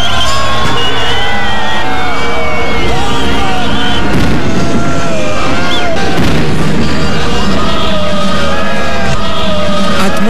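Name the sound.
New Year 2006 fireworks in Berlin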